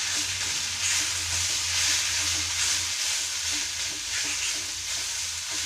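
Spices and black pepper roast in a pan for a Kerala-style crab chammanthi, giving a steady close sizzle and hiss with faint stirring scrapes throughout and no talking.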